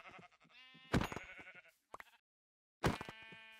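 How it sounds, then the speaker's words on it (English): Sheep in Minecraft bleat in a few short, wavering cries, close and clear, with a brief gap of silence before a final bleat and no talking over them. "it doesn't look like there's too many sheep around"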